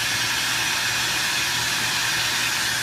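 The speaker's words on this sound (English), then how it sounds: "It just takes a really long time with the turbo torch." Turbo torch flame brazing HVAC pipe of dissimilar metals, a steady close roaring hiss with no break, loud and broadband throughout, no talking over it.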